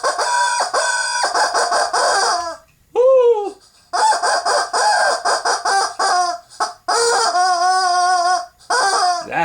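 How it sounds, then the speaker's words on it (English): Agitated chicken clucking and squawking loudly in repeated harsh bursts with brief gaps, close by, with a short exclaimed voice partway through. "that's one angry chicken"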